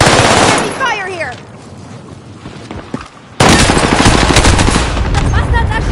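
Loud close machine-gun fire rattles in long bursts aimed at the listener, stops briefly while someone speaks amid scattered shots, then resumes as a heavy sustained barrage.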